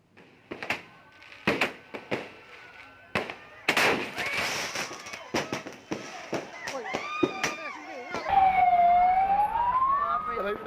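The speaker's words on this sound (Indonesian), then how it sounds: "Usai kembang api yang dinyalakan saat malam tahun baru meledak di tangannya" New Year's Eve fireworks crack and pop in irregular bursts, some loud and close, followed by a rising and falling siren wail toward the end.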